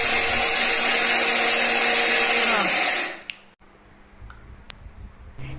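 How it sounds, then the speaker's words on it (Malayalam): A mixer grinder whirs loudly for about three seconds grinding roasted lentils, then winds down and stops, leaving quiet clicks and handling sounds. "ഇങ്ങനെ വറുത്തെടുക്കുന്ന പയർ നമ്മൾ മിക്സിക്കകത്തിട്ട് നന്നായിട്ടൊന്ന് പൊടിച്ചെടുക്കണം."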